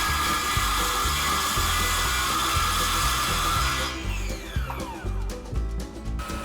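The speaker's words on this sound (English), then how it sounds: "I'm squaring up one edge with my homemade track saw with a circular saw on" A circular saw riding on a homemade track whines steadily as it squares the edge of a glued-up wooden panel, then the tone shifts and winds down near the end.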